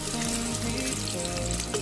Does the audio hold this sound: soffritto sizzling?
yes